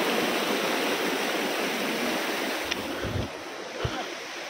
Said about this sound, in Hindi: और पानी की आवाज़ सुनो